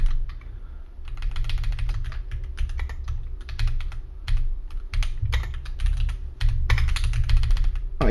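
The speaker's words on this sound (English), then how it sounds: "I cannot type" Rapid, steady typing on a computer keyboard during a gaming session, with close, continuous clicking in bursts and brief pauses over a low background hum.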